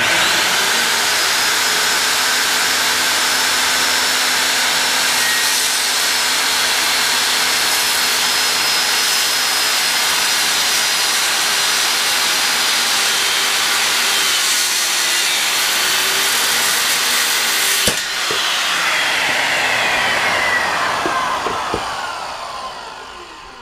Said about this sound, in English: That's a really good example of a kickback.